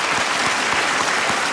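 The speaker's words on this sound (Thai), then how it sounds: "ปรบมือให้กำลังใจกับน้องโรงเรียนที่มาใหม่หน่อยนะครับ" Dense crowd applause, loud and continuous for a brief moment, rises from the audience at a school country-music band performance in Phichit province, Thailand.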